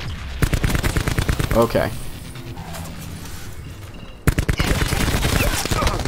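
Rapid bursts of automatic gunfire from a KN-57 rifle in a first-person shooter video game, loud and close, broken by a short gap. A player talks briefly over the shots.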